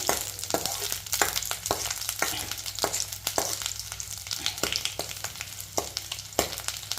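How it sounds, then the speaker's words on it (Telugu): Tempering spices crackle in hot oil for a drumstick leaf chutney, a close steady sizzle broken by frequent sharp pops and spatters, with no talking. "ఇంతలోపల మేము తాలింపు కూడా వేసుకుంటున్నాం అండి"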